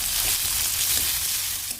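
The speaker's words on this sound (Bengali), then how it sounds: "টমেটোটা দিয়ে একটু ভালো করে নাড়িয়ে নেবো।" Tomatoes added to browned onions frying in a pan and stirred, a steady close sizzle with light stirring scrapes running continuously without talk.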